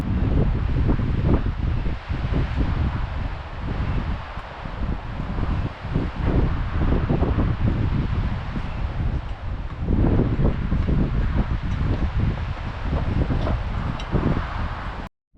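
Strong, steady wind roars and gusts across a mountain hiking trail near a rocky crag leading into a valley on Sheep Mountain, buffeting the microphone with low rumble and no audible talk.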